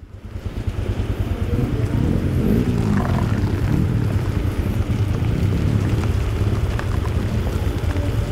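Heavy rain pours down at an off-road campsite in Vietnam's Central Highlands, a loud, steady wash of drops with a low, rhythmic rumble underneath and no voices.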